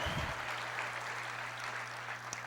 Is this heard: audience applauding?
yes